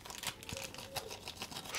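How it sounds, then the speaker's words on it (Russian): A small plastic bag is opened by hand, giving faint, irregular crackles and crinkles close to the microphone, with no talking. "Пакетик, сейчас его открою."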